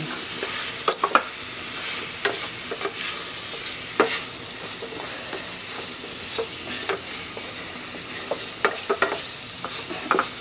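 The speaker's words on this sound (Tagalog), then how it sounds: "Simpleng pagigisa lang." Bitter gourd (ampalaya) sautéing in a pan, a steady close sizzle and fry with scattered sharp pops and spatters throughout and a few stirring scrapes, no voices.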